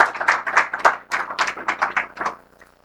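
A small group claps to welcome a guest onto the stage at an industry event, a few seconds of quick, uneven hand claps close by that fade out, with no talking over them.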